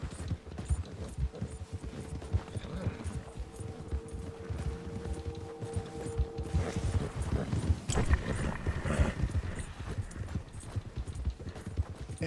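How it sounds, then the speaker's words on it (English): Game horse galloping through snow in Red Dead Redemption 2, a steady rapid clip-clop of hooves running close and fairly loud, with a faint mechanical ticking alongside and no talking. "the horse is just unable to run in the snow really well"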